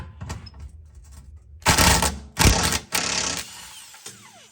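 A ratchet loosens a 12mm sway bar bolt on a 2010 Honda CR-V, giving several loud, close bursts of rapid metallic clicking separated by short pauses.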